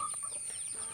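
Asil cross chickens, a flock of three hens and one rooster, cluck softly at close range in a short burst over a steady background hum.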